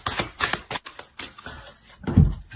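Tarot cards being added and laid out on a table: a quick run of crisp, close clicks and slaps, ending in a heavier thud as a card lands.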